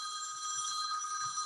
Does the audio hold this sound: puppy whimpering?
no